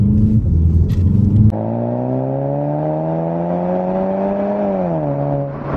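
Golf 7 GTI Performance Phase 2 accelerates on a road test. The engine note climbs smoothly through a long pull, eases off briefly near the end, and comes after a rougher rumble at the start.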